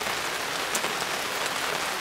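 Steady rain falling outdoors at a campsite during a barbecue pizza cookout, a dense, even hiss of drops on surfaces with occasional brighter spatters, continuous and fairly close.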